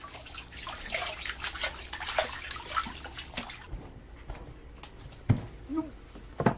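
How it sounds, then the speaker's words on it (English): Salted fish are rinsed by hand in running spring water at a Japanese home. Splashing and trickling come close and fairly soft, broken by a pause and then a few sharper splashes and drips. "Sangoro's wife, Chicano, washes the fish salted in spring."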